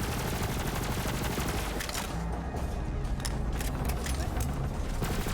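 Bursts of automatic gunfire in the looter-shooter Borderlands 3, loud and sustained over a dense rumbling game mix, with shots rattling in quick irregular clusters throughout.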